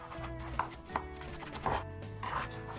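Garlic cloves minced with a knife on a board for a pork kebab marinade at a campfire cooking setup, heard as a few soft, spaced chopping taps over a steady low hum, quiet and close.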